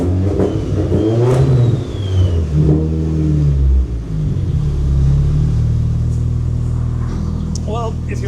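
An SR20 VVL engine in a Nissan 240SX revs loudly on a dyno, a steady close drone with rising and falling revs, while people talk over it throughout.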